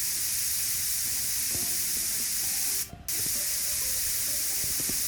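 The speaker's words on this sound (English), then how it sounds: "So you can just quickly spray, move on, get to the next section." A paint sprayer coats walls in the Builder Simulator video game, a steady loud hiss that runs almost throughout, briefly stopping for an instant before resuming, with faint soft clicks beneath.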